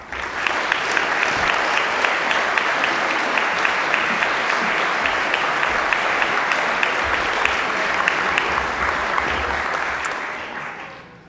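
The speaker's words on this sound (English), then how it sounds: "please give a round of applause to Katherine Rose" Audience at a Modern Love storytelling event giving a round of applause for Katherine Rose, steady, dense clapping from a sizeable crowd that holds evenly for about ten seconds before fading out.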